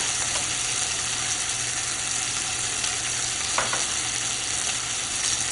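A stuffed rack of lamb chops sears in a hot pan with a constant, close, dense sizzle. A faint low hum runs underneath, and a few soft scrapes sound near the end.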